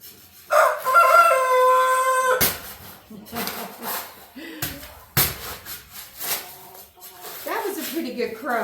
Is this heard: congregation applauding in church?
no